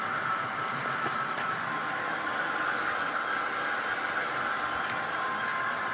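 A steady, continuous mechanical whir and rumble of an HO scale BNSF model train running along its track on a layout, even and unbroken throughout.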